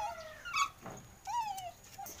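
A dog yips and whimpers in brief, high bursts in a home backyard garden, fairly distant and unaccompanied by talk, with a faint breathy rustle between calls.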